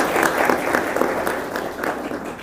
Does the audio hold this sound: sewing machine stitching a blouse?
no